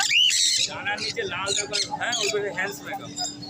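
Loud, harsh parrot squawks ring out repeatedly close up, overlapping with people talking nearby.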